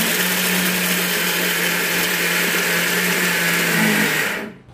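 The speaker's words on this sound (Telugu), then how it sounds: "కొబ్బరి ఇలా మిక్సీ పట్టుకోవాలను" An electric mixer grinder whirs steadily at high speed grinding coconut, a loud continuous motor whine with a low hum, stopping abruptly near the end.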